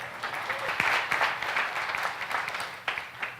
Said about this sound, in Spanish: ¿Cuántos le dan un aplauso alegre al Señor?